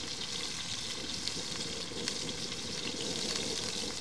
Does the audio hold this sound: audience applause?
no